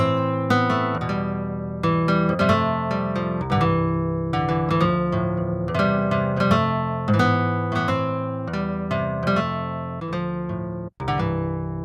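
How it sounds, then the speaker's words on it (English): Plucked Martin acoustic guitar, multi-sampled in the Serum 2 synth, plays a flowing pattern of picked notes and chords, bright and close, continuing steadily without any voices. "my favorite one is this guitar"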